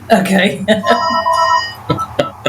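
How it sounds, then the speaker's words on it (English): A telephone rings with steady electronic tones while a person speaks briefly over it, followed by a few short knocks or clicks. "We'll just wait for the phone to quit ringing."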